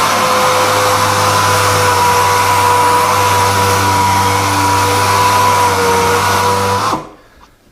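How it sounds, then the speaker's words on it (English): An air-operated Jitterbug sander whines at a steady high pitch with a strong hum, running continuously and loud until it abruptly shuts off and spins down near the end. "Then we have the little Jitterbug. Now this one's air operated"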